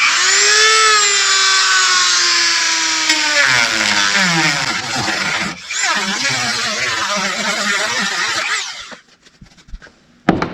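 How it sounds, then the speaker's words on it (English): A Dremel rotary tool sands out a hole in plastic on an old Grady-White boat, whining loudly and steadily, its pitch sagging under load for about nine seconds before it cuts off, with a brief exclamation near the start. "let me get the Dremel, make this hole like a real hole"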